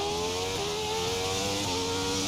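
A Ferrari racing engine revs hard on a fast lap, a loud continuous high-pitched drone with rising harmonics and brief dips at gear changes, close and alone.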